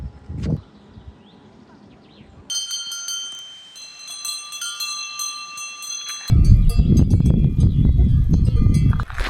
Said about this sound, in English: Do you think the cows ever get annoyed of those bells?